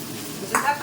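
Food frying in a pan on a home stove while breakfast is cooked, with a short sizzling stir rising briefly over a low steady hiss.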